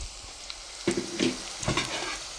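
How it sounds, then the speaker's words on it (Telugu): Onions frying in a pan at home for biryani, browning in oil: a steady soft sizzle with a few louder crackles and stirring scrapes, close up. "ఉల్లిపాయలు వేగుతున్నాయండి"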